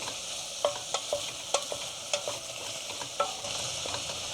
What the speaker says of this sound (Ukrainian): Беремо наші картопельки туди вкидаємо, хай теж трошки, трошки підсмажуться.